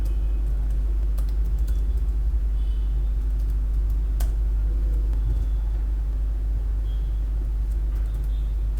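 Keystrokes on a computer keyboard while a command is entered, a few faint, sparse clicks over a steady low rumble of background hum, with no talk.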